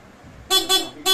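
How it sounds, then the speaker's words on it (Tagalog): The stock horn of a car honks near and loud, sounding three short beeps in quick succession after a moment of quiet. "Meron siyang stock horn, saka meron na PIAA."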